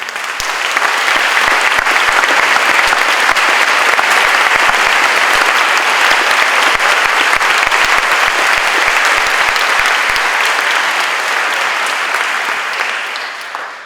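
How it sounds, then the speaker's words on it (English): An audience at an educator orientation applauds students' family members, a loud sustained round of clapping from a large crowd that holds steady for over ten seconds before tapering off at the end. "I'd like to ask our family members to please stand and be recognized so we can applaud you"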